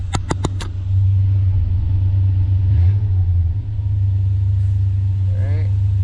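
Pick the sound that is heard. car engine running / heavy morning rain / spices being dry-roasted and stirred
car engine running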